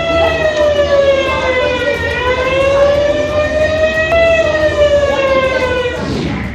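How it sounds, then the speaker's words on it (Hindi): A loud, sustained wailing civil defense air raid siren during a mock drill in India, its pitch rising and falling slowly in long sweeps, steady and dominant throughout. "बज गया युद्ध का सायरन।"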